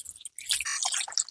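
Water is poured over a pet dog named Daymon during a bath, giving a short, close splashing and dripping sound with brief gaps.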